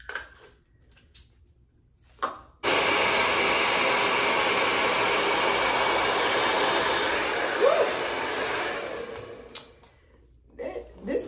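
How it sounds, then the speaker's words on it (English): A blow dryer switches on abruptly and runs with a loud, steady whooshing roar for about seven seconds, then cuts off, with brief handling noises around it. "And I'm gonna put that blow dryer to it."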